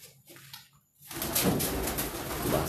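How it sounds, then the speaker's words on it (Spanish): Pigeons coo and flutter under a roof at night near a lamp during a paranormal exploration at Quinta la Perla by a lagoon. Quiet sounds come first, then a loud, close burst of broadband flapping and rustling fills the rest. "Otra paloma, casi me pegan en la cabeza."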